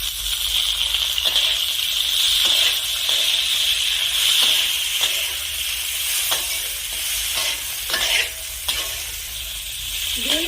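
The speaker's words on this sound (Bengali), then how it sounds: "বিনস গাজরের সাথে নেড়ে চেড়ে মিশিয়ে 2 মিনিটের মতো ভেজে নেব।" Beans and carrots stir-frying in oil for khichuri, a steady close hiss of sizzling with soft periodic scrapes as the vegetables are turned, no voices over it.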